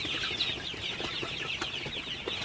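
Sonali chickens cluck and peck at starter feed, a busy cluster of soft clucks and chirps with light pecking taps, fairly close and steady.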